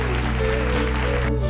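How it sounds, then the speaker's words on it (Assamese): Audience applause at a quiz-style game show, a loud, continuous rush of clapping with faint tonal sounds running underneath it. "হাত চাপৰি এটা বজাই দিব লাগে সকলোৱে"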